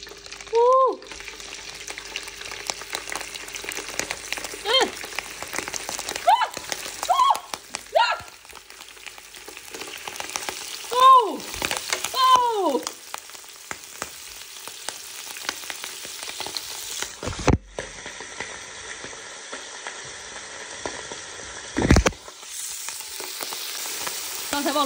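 Pickled mustard greens fry in an electric frying pan for sour fish, giving a loud, steady sizzle and crackle with bursts of spattering and clattering stirs, close up and without talk.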